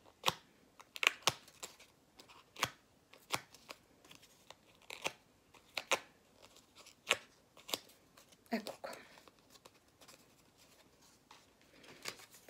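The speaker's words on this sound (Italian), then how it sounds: "Dategli un'arrotondata con le forbici, girate e fate un'arrotondata." Scissors round off paper flower petals with crisp, close snips that come roughly once a second, and a quiet voice is heard in the background.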